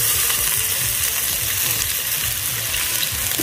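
Onion for bhaji frying in hot oil gives a loud, continuous crackling sizzle throughout, close up and without speech.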